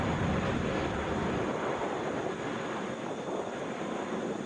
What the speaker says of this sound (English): Spirit Airlines Flight 1361, headed to Las Vegas, Airbus